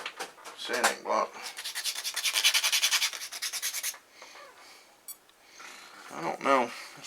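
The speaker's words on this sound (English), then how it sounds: "Get my sanding block." A sanding block rubs across thin plywood in quick rhythmic back-and-forth strokes, loud and close, with brief pauses between runs.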